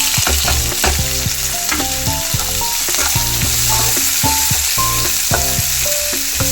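Green chillies and onion fry loudly with lentils for a cabbage poriyal, a dense close sizzle with constant crackling under a steady rhythm of spoon taps against the pan.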